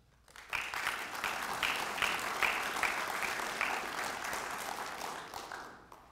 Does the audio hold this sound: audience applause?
yes